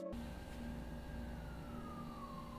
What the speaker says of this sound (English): Police siren in the background.